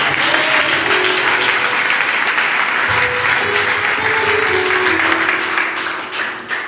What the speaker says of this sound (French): Au nom de Jésus, acclame le roi des rois.